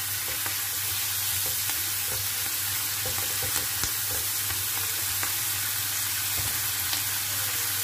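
Smoked duck with ingredients stirred in a frying pan, a steady dense sizzle with scattered scrapes and clicks of the utensil over nearly eight seconds, close and even, with no voices.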